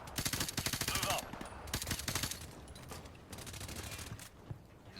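Rapid automatic gunfire in the video game Modern Warfare Remastered, dense bursts of shots crackling back to back, fairly quiet overall and easing off toward the end with sporadic pops.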